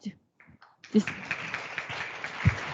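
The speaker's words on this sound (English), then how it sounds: "Please give applause" Applause breaks out at a university agreement signing ceremony between UNTAG Surabaya and Southern Federal University, a dense, steady clatter of many hands that follows a few brief spoken words and continues to the end.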